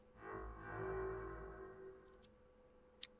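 Chaos Emerald absorption effect, a low warped whooshing swell with a held tone that fades over a couple of seconds, followed by faint ticks and a sharp click near the end, quiet overall.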